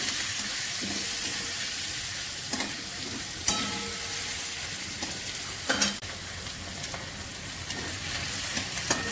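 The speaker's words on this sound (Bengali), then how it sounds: "এবার একটু কষিয়ে দেবো।" Ground chilli, cumin and coriander powders are stirred and fried in a pan for a country duck egg curry, with a steady close sizzle broken by several sharp scrapes and knocks of the spoon.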